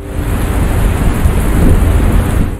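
Loud, steady downpour with a deep rumble of thunder rolling underneath, constant and close, no voices.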